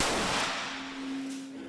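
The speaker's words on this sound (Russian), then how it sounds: "Это выстрел рельсотрона, электромагнитного ускорителя, который способен разогнать материю до первой космической скорости." An electromagnetic railgun fires a single sharp, loud blast that decays into a fading rumble with a lingering steady tone, and no voices are heard.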